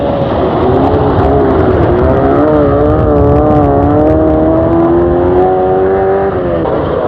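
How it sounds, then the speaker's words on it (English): Andruet's Fiat rally car on the snowy Monte-Carlo Rally of 1978, running behind snow plows, its engine droning loud and steady with a rising and falling pitch as it passes close by. "After the snow plows goes Andruet's Fiat."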